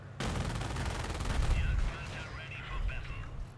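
Tank cannon fire in the World War II strategy game Company of Heroes, set in the Market Garden campaign near Valkenswaard: a sudden loud blast with booming low rumble and sustained gunfire texture, swelling again near the end.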